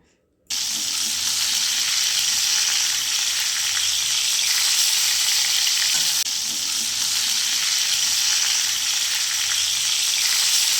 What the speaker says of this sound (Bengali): একে একে প্রত্যেকটা মাছ আরেক পিঠ উল্টিয়ে লাল করে ভেজে তুলে রাখবো